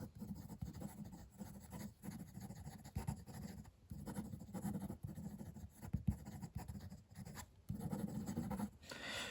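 A Parker 51 fountain pen nib scratches across paper in quick, continuous strokes with short pauses, faint and close, with no talk over it.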